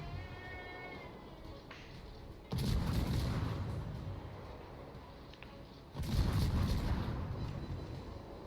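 Heavy naval guns fire in a World of Warships-style naval battle game, with two loud booming salvos of broadband roar and rumble, the second about three and a half seconds after the first, each decaying over a steady background ambience.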